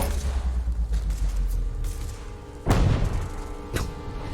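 A grenade explodes in The Walking Dead: Destinies, a sharp booming blast followed by a second lighter thump a second later, standing out over a low rumbling game background.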